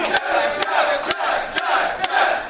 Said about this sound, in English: This crowd is turned up. This is a special crowd today.